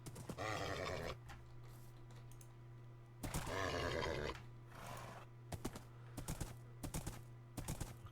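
Horse whinnies twice in Minecraft, each a loud, drawn-out neigh lasting about a second, with soft clip-clop hoof steps and clicking between them over a low steady hum.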